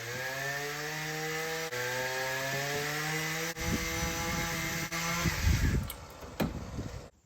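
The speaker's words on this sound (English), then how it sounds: "Just ignore that, we're cutting down limbs." Tree limbs are cut outdoors with a chainsaw whose engine drones in a steady high whine, breaking off in short pauses and changing pitch under load before cutting out abruptly, loud and fairly close.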